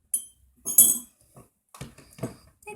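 Metal spoons clink against a container as ingredients for borax and glue slime are scooped in, a few short bright taps and scrapes with pauses between, close by and fairly quiet.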